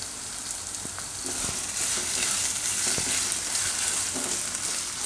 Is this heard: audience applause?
no